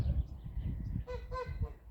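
A gander among a flock of grazing geese gives two short nasal honks near the end, after some low rustling and scuffing nearby.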